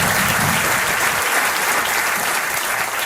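An audience applauds a guest at a talk on lost civilizations, a dense, steady wash of clapping filling the room without any voices.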